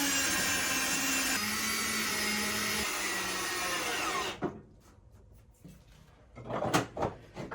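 A power drill whines steadily as it drives screws into a plywood box for a bronze statue, then stops, followed by a few short knocks and clunks of wood handling.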